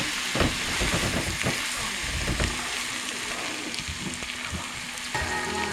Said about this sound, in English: Now stir it all together, and we're going to reduce it to a simmer.